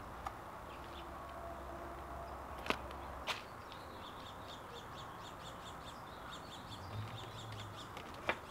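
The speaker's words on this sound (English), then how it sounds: "I'm out here right now and I'm watching the birds" Crows cawing outdoors in a garden, a run of repeated calls from a middle distance over steady background ambience, with a few sharper sounds near the start and end.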